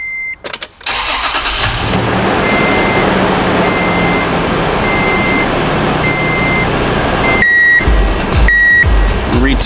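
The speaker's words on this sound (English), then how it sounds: "I'm going to go ahead and I'm going to start the vehicle." A Toyota Tacoma's engine cranks and catches after a brief pause, then settles into a steady idle, with a dashboard chime repeating at regular intervals over the running engine.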